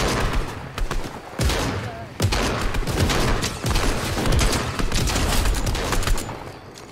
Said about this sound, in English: Alright, someone's shooting